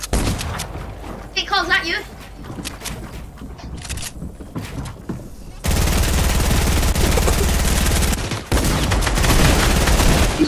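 Automatic gunfire in Fortnite, with a dense, sustained spray of shots dominating the second half after scattered shots and a player's voice talking earlier.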